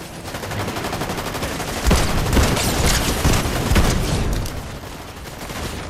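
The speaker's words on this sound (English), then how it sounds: "They're shooting at me." Enemy gunfire rattles loud and continuous in an online shooter match, with overlapping automatic bursts and a few heavier booms stacked into a dense, steady barrage.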